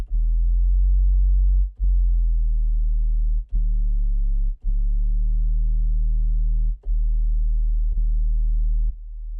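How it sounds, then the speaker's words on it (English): A basic sine-wave synth patch from the LEWD Kontakt instrument, with glide enabled, holds loud, pure, low tones that run on for seconds, broken by brief clicks as about five notes change in sequence. "Right, just a basic sine wave there."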